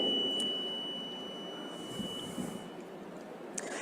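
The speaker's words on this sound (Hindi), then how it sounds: "जब ये पर्ची 60 सेकंड बाद कट के गिरेगी तो 5 सेकंड की बीप की आवाज़ यहाँ पर सुनाई देगी" An EVM voting machine gives a beep as the printed slip drops during a mock poll: a thin, steady high tone held for about two seconds at low volume, followed by a few faint clicks.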